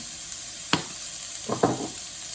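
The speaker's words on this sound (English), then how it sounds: "Just stir that in" A spoon stirs salt, black pepper, allspice, paprika, thyme and cumin into a jackfruit patty mixture in a pan, with a few soft scrapes over a steady hiss of sizzling, close by and without speech.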